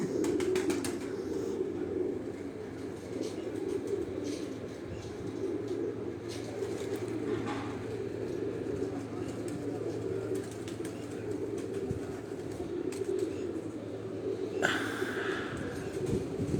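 Pigeons coo in a low, steady murmur from a rooftop loft with a breeding setup. The rumbling calls run on continuously, with a brief flutter of wings and a few soft knocks.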